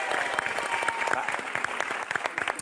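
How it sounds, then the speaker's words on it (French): A French television studio audience on a Sunday game show breaks into brisk, dense applause, steady and close throughout with crisp individual claps standing out. "ça mérite des applaudissements"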